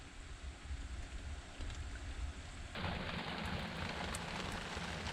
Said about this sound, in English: Getting some proper rain now.